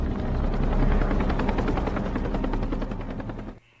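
A helicopter arriving for a rescue in a film, its rotor thudding in a rapid, steady beat, loud and close, before cutting off abruptly near the end.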